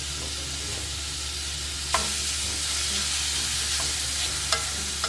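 Ground meat stir-frying in a little oil over high heat for dan dan noodles: a steady close sizzle throughout, with a few sharp clicks of the spatula against the pan.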